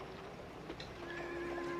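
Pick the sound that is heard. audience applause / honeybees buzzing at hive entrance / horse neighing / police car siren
horse neighing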